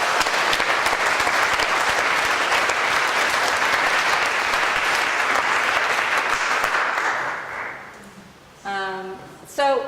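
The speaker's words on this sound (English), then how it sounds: "can we give a round of applause to them?" Loud, sustained audience applause fills most of the clip, a dense steady wash of clapping that fades out near the end, followed by a couple of brief voices.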